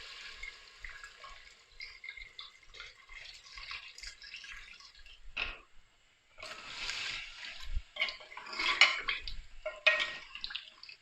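Water pours into a pot of browned potatoes while aloo gosht is cooking, a close, splashing stream broken by a brief pause before heavier pouring resumes, with no talk over it.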